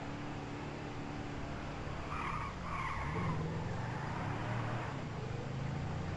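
A car in GTA 5 driving fast with a sustained tire skid, a steady loud engine and road roar with the squeal layered through the middle.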